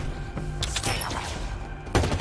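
Halo Infinite campaign firefight: a dense burst of rapid gunfire rattles through the first part, then a heavier thump-like shot lands near the end, with game sounds filling the background.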